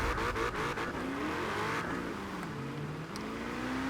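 A Quadra V-Tech car in the Forza Horizon 4 racing game accelerates hard, its engine note climbing steadily and droning loudly and continuously throughout, with no talking.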